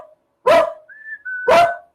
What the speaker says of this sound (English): There's nobody there. What's he barking?